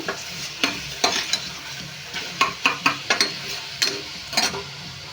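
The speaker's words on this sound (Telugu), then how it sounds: "ఇలా అయితే ఉల్లిపాయలు ఫ్రై చేసుకోవాలి" Onions fry in a pan under a soft, steady sizzle, with repeated sharp scraping and clinking strokes of a spatula stirring in irregular clusters, close and fairly quiet, with no talking.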